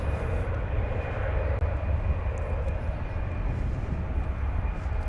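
An American Airlines Airbus A319 takes off from Dallas-Fort Worth Airport with a loud, steady jet engine roar and a droning tone that holds evenly throughout.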